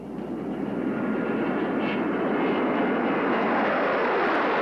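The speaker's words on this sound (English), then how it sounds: "The Air Force scrambled jet fighters from McCord Air Force Base near Tacoma to follow the plane" A steady, broad roar of a jet aircraft passing overhead, swelling gradually louder across the span with no voices.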